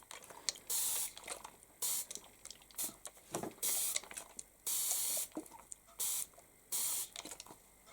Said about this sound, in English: we're just going to spray that with a couple of spritzes of water